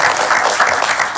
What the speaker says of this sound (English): This is where you get the clap.